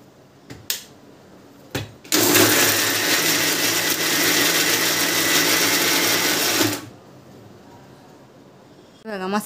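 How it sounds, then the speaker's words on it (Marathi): An electric mixer grinder grinds masala in a loud, steady whir of about four and a half seconds, starting and stopping abruptly, with a few clicks and bumps before and after. "तर मसाला वाटून घेते मिक्सरमध्ये."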